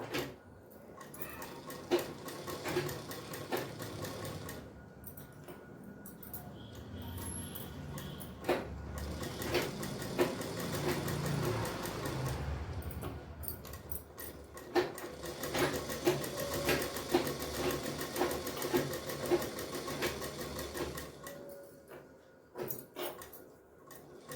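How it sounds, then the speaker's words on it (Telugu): A tailoring-class sewing machine stitches fabric in short stop-and-start runs, a steady mechanical whirring and ticking that pauses now and then, fairly quiet and close, with no talk over it. "ఇవన్నీ కొద్దిగా ఆపుతూ ఆపుతూ కుట్టుకోవాలి ఇలా"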